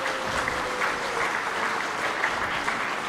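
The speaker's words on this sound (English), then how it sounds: "Let's give these girls a round of applause." An audience claps for JV and varsity volleyball girls at a school sports gathering, a steady, mid-volume wash of many hands with faint crowd murmur beneath.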